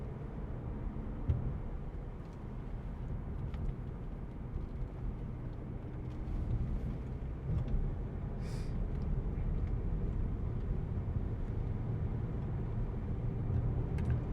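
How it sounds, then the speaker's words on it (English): A 2017 Audi A6 saloon with a 2.0 TDI ultra diesel engine and S Tronic gearbox pulls steadily up a hill without changing gear, a low continuous engine drone with road rumble that swells slightly toward the end. "diesel engine, low end torque, pulls up the hill like nobody's business"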